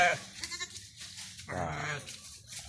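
Sheep bleating on a small farm, let out in front of the farmhouse: a couple of distinct nearby bleats separated by a short pause, moderately loud over a quiet outdoor background.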